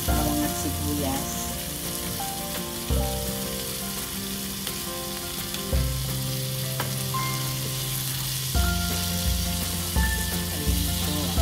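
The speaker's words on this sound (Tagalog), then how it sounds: "Sote-sote lang po natin sa ating bawang at sibuyas" Garlic and onions sautéing in a pan for a soy-sauce dish, giving a loud, steady sizzle that runs throughout, with a few stirring knocks and no voices.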